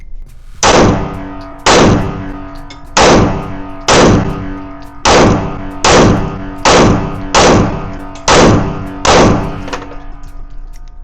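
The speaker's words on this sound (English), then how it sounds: "I am shooting the Sig P365 Fuse." Repeated gunshots from a Sig P365 Fuse pistol at a shooting range, about nine loud, sharp reports spaced roughly a second apart, each with a brief ringing decay.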